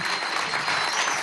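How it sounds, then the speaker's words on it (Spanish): Crowd at a televised Venezuelan political broadcast from Yaracuy bursts into brief, dense applause, loud and close, with no talk over it. "De aquí vamos a mandarle un aplauso a la directiva de la Asamblea Nacional Constituyente"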